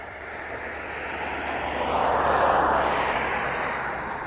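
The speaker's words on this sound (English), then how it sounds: "it certainly looks like we have the two Typhoons at the other end of the runway, ready to roll very soon" Two Eurofighter Typhoon jets at the far end of the runway at East Midlands Airport produce a broad, distant engine roar that swells to a peak midway and then eases slightly, steady throughout.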